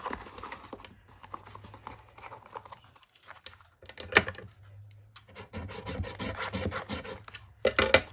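A folded paper box is rubbed firmly to crease it, producing close, dry scraping and brushing strokes in uneven bursts separated by short pauses, over a faint low hum.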